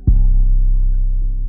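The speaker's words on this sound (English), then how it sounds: "open up your 808 sound and then just drag it into the playlist here" An unprocessed 808 bass sample in FL Studio sounds once, a single loud, deep sustained boom with a punchy attack that holds steady for over a second before cutting off.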